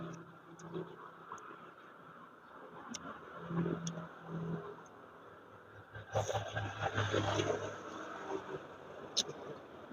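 Cars pass close by on a road, with engine hums rising and falling, one vehicle swelling loudly past midway, while people talk nearby over the traffic.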